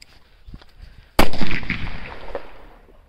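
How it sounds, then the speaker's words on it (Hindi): A chidi bomb firecracker set off during Diwali bursts in one sudden loud bang, with crackling and a long fading rumble that trails away over the next two seconds, after a quiet lead-in. "ये देखा भाई आपने क्या शानदार बजा हमारा जो चिड़ी बम था"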